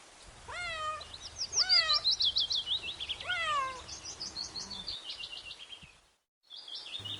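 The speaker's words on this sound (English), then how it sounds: "C for cat." A cat meows several times in a row, close and fairly faint, with high chirping calls overlapping and continuing after the meows.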